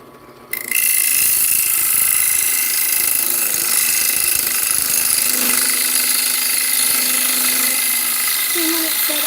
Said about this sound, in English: Also use new sandpaper for a better finish.